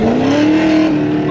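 A loud cammed Dodge Demon 170 engine holds a steady, throaty rev with a rising drone, close by, like a stock car at speed.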